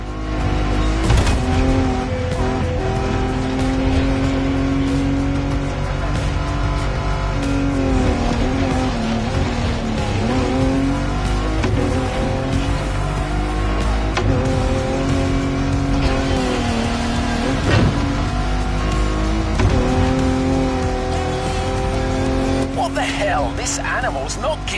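A car in the driving game The Crew roars along under hard acceleration, engine pitch rising and falling through gear changes with brief tire squeals, loud and continuous while someone talks over it.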